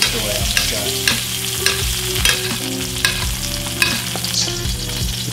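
Butter with garlic and rosemary sizzles and spits steadily in a hot pan as a spoon bastes meat, with clinks from the spoon and continuous close frying crackle throughout.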